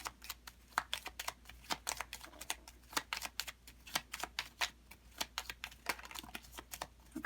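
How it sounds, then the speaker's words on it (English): Tarot cards from a Gypsy deck are shuffled and drawn, a quick run of crisp, close clicks and flicks in an irregular rapid rhythm, quiet and dry with no talk over it. "let's see if we can get 3 little cards here, the Gypsy deck."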